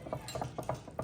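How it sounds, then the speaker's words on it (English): A whisk clicks against a bowl while stirring cornbread pudding batter, giving about half a dozen quick, close metallic ticks in a brisk rhythm within a second, no talking. "I'm gonna mix it up a little bit with the whisk."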